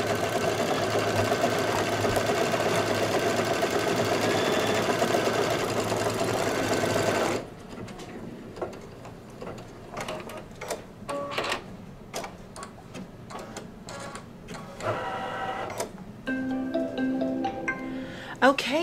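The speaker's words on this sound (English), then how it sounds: "This is gonna take 5 minutes to stitch out." Embroidery machine stitching out a quilting design on Kimberbell clear blue tiles, a steady loud mechanical whir for about seven seconds, then quieter intermittent stitching taps and clicks.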